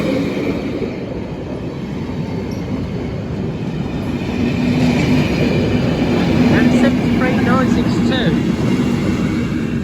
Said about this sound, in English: The train now approaching platform 1. Does not stop here.